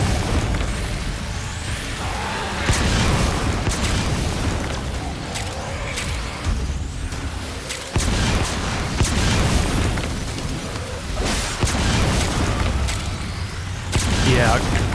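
Mortar explosions in the video game Metal Gear Survive, with several heavy booming impacts hitting at intervals over a dense rumbling background.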